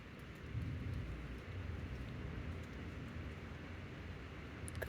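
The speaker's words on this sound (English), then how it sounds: "It has a metal roof, and you can hear the rain like thunder on it." Heavy rain pours on a metal roof as a faint, steady wash of noise with low rumbling, continuous and distant-sounding, with no voices.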